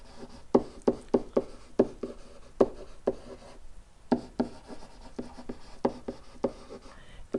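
Marker or chalk strokes scrape on a board in short, irregular taps and rubs, close and moderately loud, with brief pauses between bursts of writing.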